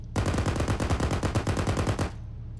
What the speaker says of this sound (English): Seracop is firing.